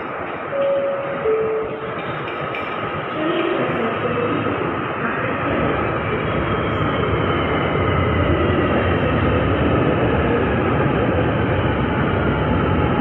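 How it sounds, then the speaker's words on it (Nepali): A Rapid KL LRT train on the Sri Petaling line pulls into a station in Malaysia, its steady rumble loud and continuous throughout, with faint whining tones above it and no voices. "अब यतादेखि 2 मिनटभित्र ट्रेन आउँदैछ, अनि त्यसबाट म चढेर कुलालम्पुरसम्म जाँदैछु"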